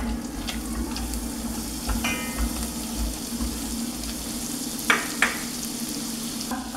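Butter sizzling as it hits a pan of browned chicken pieces with the excess fat poured off, a steady frying crackle throughout, with a few sharper spatters and utensil clinks near the end, no talking.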